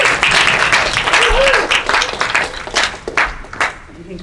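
Audience applause at a prize announcement, a loose round of hand clapping from a small group nearby, thinning into scattered claps toward the end, with a few voices under it.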